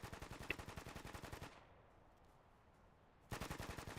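Bursts of rapid machine gun fire during an advanced machine gun training course: a long automatic string, a pause of about two seconds, then another burst, distant and rhythmic.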